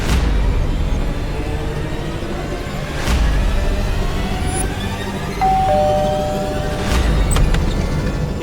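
A doorbell chimes in a house, a few sharp ringing tones spread across several seconds over a constant low background hum, loud and close.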